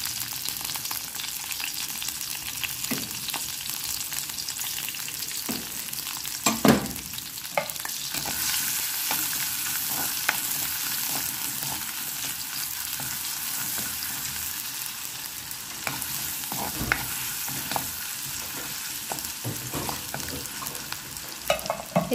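Chopped onion and dried red chillies fry for a tomato chutney tempering, giving a steady, close, loud sizzle with scattered stirring scrapes and a few sharper pops throughout.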